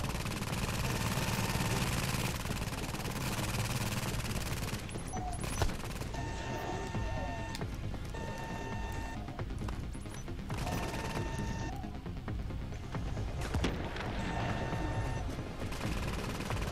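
Incendiary-round gunfire in The Division shooter game, dense sustained bursts and fusillades rolling over a loud, busy mix of mechanical game effects, with no clear pauses.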